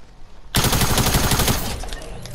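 Rapid automatic gunfire in Fortnite opens abruptly after a half second of low background noise, then continues as a dense, loud, unbroken burst to the end.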